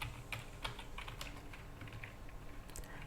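Rapid, uneven keystrokes on a computer keyboard while TypeScript code is typed, close and fairly quiet, with no talking over them.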